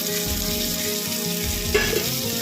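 Mint and coriander leaves sautéing in a pan with mashed tomato, a continuous close sizzle with a low rumble underneath and a couple of soft scrapes of a spoon near the end.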